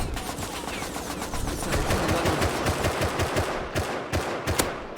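AK rifle gunfire in the survival game Rust rattles in rapid automatic bursts, near and loud, with dense repeated shots continuing across the whole stretch.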